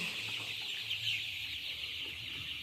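Seventeen-day-old Sonali chicks cluck softly and continuously while being given Gumboro vaccine, a steady low murmur of many birds with no talking.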